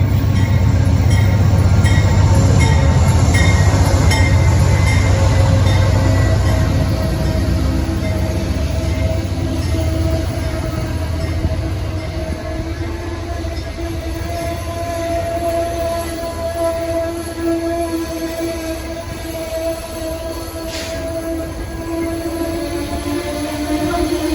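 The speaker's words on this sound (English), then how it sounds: "another Amtrak Northeast Corridor train arrived" An Amtrak Northeast Corridor passenger train rumbles loudly and steadily into a station, heavy low roar of wheels and cars gradually easing slightly, with faint metallic squeals.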